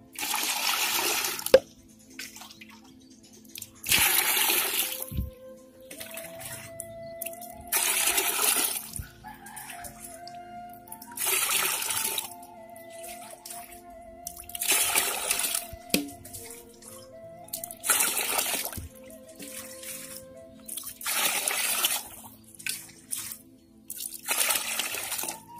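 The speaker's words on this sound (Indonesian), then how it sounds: "Nah, kita campurkan air 10 liter ya." About ten liters of water are poured and mixed in a bucket for growing celery, heard as a series of loud gushing bursts every few seconds with quieter gaps and drips between.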